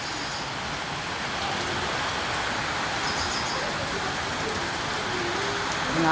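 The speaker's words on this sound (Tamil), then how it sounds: "எங்கேயோ இருந்து ஒரு சவுண்டு வந்தால் சட சட சட சடச்சான்னு மழை" Rain falls and patters steadily on surfaces outdoors, a dense, even wash of drops that swells a little louder toward the end.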